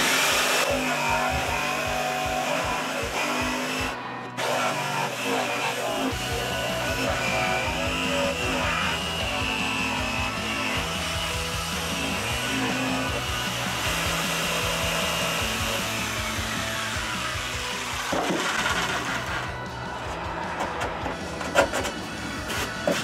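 A power saw cuts a hole through the wood of a built-in fireplace media cabinet, running loud and continuous with brief pauses where the cut stops and restarts.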